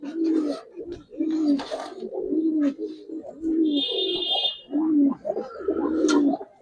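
Silver Giribaz pigeons coo in close, repeated soft bursts of low, throaty calls, one after another in a fairly regular rhythm, with a brief high chirp partway through.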